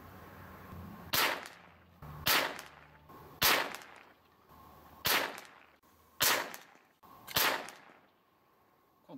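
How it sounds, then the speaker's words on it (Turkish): A scoped pellet rifle fires at a target 50 meters away, giving six sharp cracks at roughly one-second intervals. Each crack is loud and close, with a short fading tail over a quiet background. "Şimdi de 25 metreden sıfırladığım silahla 50 metreye atışlar."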